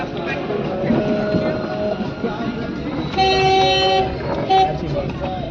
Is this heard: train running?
yes